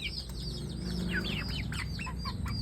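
Young Rhode Island Red chickens in a backyard, a flock making busy overlapping chirps and soft clucks close by.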